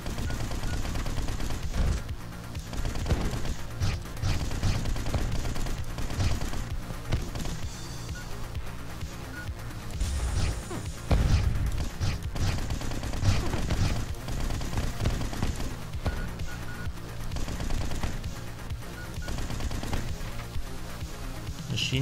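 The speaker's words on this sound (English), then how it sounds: "Machine gun. It has served us well, I must say." Machine gun fire in the twin-stick shooter Neuro Voider: dense, rapid bursts of gunfire rattle almost continuously at moderate loudness, mixed with game effects and a busy background.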